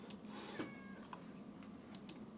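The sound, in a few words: cat meow sound effect from Freesound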